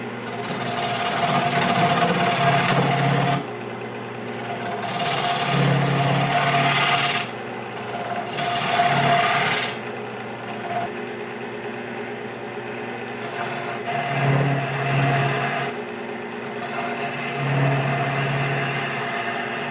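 Spindle gouge cutting a multi-axis eccentric spindle on a wood lathe: a steady motor hum runs throughout, with repeated rough, gritty bursts of tool-on-wood scraping coming and going, close and fairly loud, no talk.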